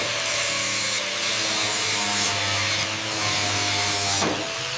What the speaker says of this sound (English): All right, firing up the grinders.